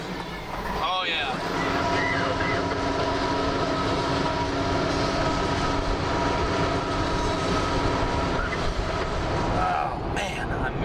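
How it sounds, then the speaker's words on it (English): A train rumbles steadily across a bridge, loud and sustained with a continuous metallic roar and clatter for several seconds before easing off near the end. "Cool seeing that train on the bridge though"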